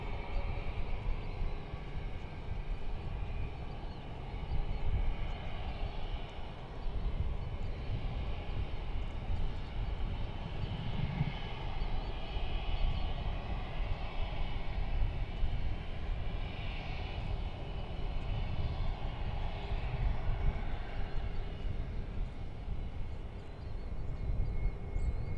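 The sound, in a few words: passenger airplane taking off from DFW Airport runway 18 left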